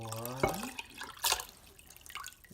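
Cooled sweet tea for kombucha poured into a jar holding a SCOBY, a brief liquid pour and splash followed by scattered drips, preceded by a short tonal hum.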